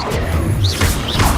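Casting Incendio in Hogwarts Legacy makes a loud, continuous fiery burst, with whooshing flame sweeps rising and falling over a heavy crackling roar.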